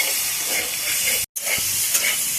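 Potato pieces sauté in hot oil in a pan, giving a steady, close sizzling hiss throughout, broken only by a brief silent gap partway through.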